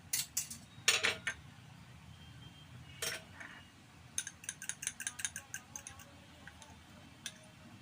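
A spoon scrapes and clinks against a cooking pot while masala for a homemade paneer curry is stirred, giving close, irregular metallic taps in short bursts with no talk.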